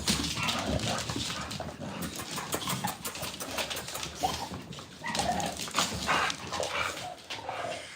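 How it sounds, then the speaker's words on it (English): Several dogs in a house bark and whimper excitedly, with overlapping yips, whines and short barks coming close and loud in uneven bursts throughout. "We got lots of dogs."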